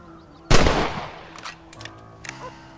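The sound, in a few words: rifle shots in Red Dead Redemption video game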